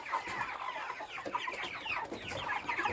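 Broiler chickens packed into cages cluck and chatter in a busy overlapping chorus, many birds close by making short, restless calls with a steady murmur of movement beneath, and no one speaking.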